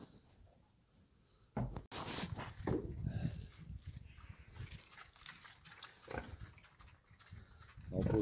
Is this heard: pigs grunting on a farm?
yes